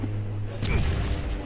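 A grenade thrown through a window explodes in the tactical game Fallout Tactics: a sudden boom about halfway through, with a rumbling burst and lingering crackle over a steady low game hum.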